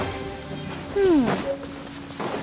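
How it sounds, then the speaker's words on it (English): Steady rain from the video game Genshin Impact hisses throughout, joined midway by a loud swooping tone that bends downward and fades. "Marching in the rain."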